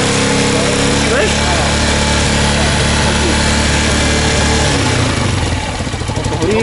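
A Romet K125 motorcycle engine with a Mikuni VM22 carburetor runs loud and steady close by, with a rough rhythmic idle that shifts slightly near the end while a voice talks over it.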